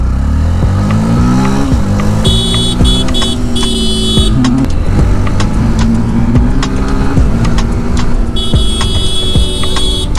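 A Yamaha FZ motorcycle engine pulls steadily uphill in third gear on a mountain road to Keokradong, its loud, continuous drone rising and falling slightly in pitch, close and without talk.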